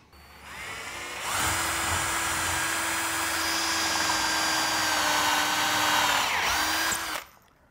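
A drill fitted with a sharp-tipped wood bit bores through timber, giving a loud, steady whirring grind for about six seconds before it abruptly stops.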